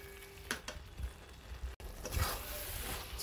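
Fried shrimp being stirred into red amaranth greens in a pan, a soft continuous sizzle with scraping stir strokes and a few light knocks, no talking.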